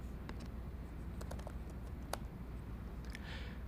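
Quiet, irregular key clicks from a computer keyboard as a name is typed into a spreadsheet cell, a soft scattered patter over low room hum.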